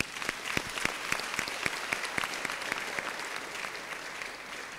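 Audience applause at a 50th anniversary celebration of a medical school, sustained even clapping from a large crowd heard at moderate distance, with individual sharp claps standing out from the steady wash.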